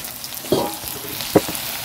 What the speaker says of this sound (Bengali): তো এদিকে পেঁয়াজ লঙ্কা এই যে তেলের মধ্যে দিয়ে দিলাম।